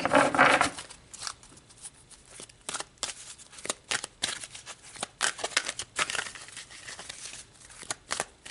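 Tarot cards are shuffled by hand in a burst of close riffling, followed by a series of crisp, irregular card flicks and slides.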